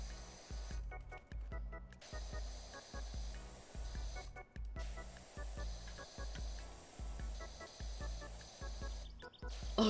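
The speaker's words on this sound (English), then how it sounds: "I think the water sounds are way better." A pressure washer in PowerWash Simulator 2 sprays a steady, fairly faint watery hiss that runs under a pulsing background music track, with short breaks where the spray cuts off.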